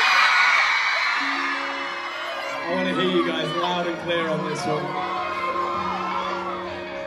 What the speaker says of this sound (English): we hope you guys will join in and scream as loud as possible